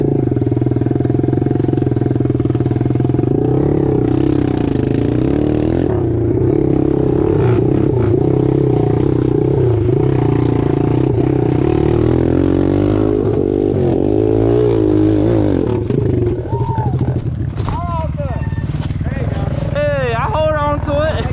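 A Chinese pit bike engine drones loud and close while riding in second gear, with a rough buzzing tone that rises and falls, a voice talking partly over it, and wind noise throughout.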